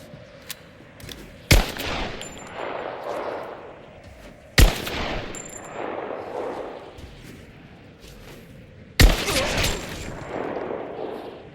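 Gunfire from a firefight at a Soviet base in Rise of the Tomb Raider: three loud, sharp shots spaced a few seconds apart, each followed by a rolling echoing tail and scattered battle noise.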